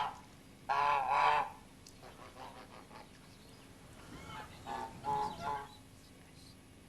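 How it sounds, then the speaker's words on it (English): A goose honking on a quiz show, two loud bursts of harsh calls with quieter honks between and a final louder pair, heard alone with no talk over it. "It's a goose."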